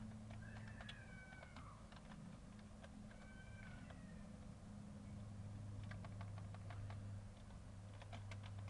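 Faint clicking keystrokes on a computer keyboard while a word is typed into Microsoft Word, with scattered taps and a denser burst toward the end over a quiet room with occasional high chirping in the background.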